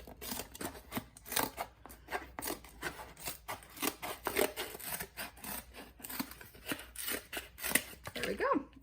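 Scissors cutting through a piece of cardboard to make two smaller ramp pieces, a run of close, repeated snipping and rasping strokes in uneven rhythm, with brief talk at times.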